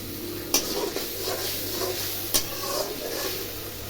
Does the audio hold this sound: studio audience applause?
no